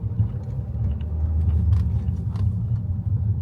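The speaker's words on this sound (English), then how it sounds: "First gear moving off." A car pulls away from a stop in first gear on a Glasgow driving test route, its engine a steady low rumble that swells slightly as it accelerates, close and continuous, with no talk.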